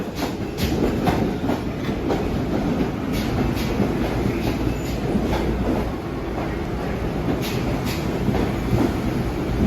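A Long Island Rail Road commuter train to West Hempstead rolls in on the next track close by, with a continuous heavy rumble, rhythmic clickety-clack of wheels over rail joints, and a faint high squeal.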